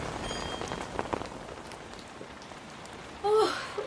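Rain falling as a radio-drama sound effect, a soft continuous patter of drops that thins in the middle before a brief louder sound cuts in near the end.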